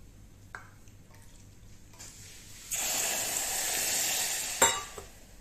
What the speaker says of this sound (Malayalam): ഇതിന് അരക്കപ്പ് വെള്ളം.